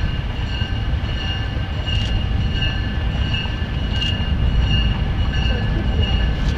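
A passenger train on the HOG Short Line Railroad rumbles steadily past, with a continuous low roar, a metallic whine and faint squealing from the wheels, and no voices.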